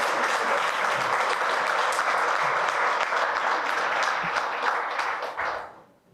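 Applause from an audience at a press conference on a digital equity grant program, a steady dense wash of clapping for several seconds before tapering off at the end.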